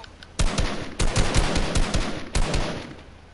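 Gunfire in a John Wick mode of the video game Fortnite: rapid bursts of automatic shots in two or three clusters, loud and close, with no talking over them.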